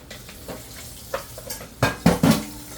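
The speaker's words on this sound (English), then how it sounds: "now strain this out in that colander and start a dishwater in this pot" A metal pot and colander are handled while straining macaroni for a salmon pasta salad: soft scattered knocks early, then three louder, close clanks in quick succession near the end, with no talking.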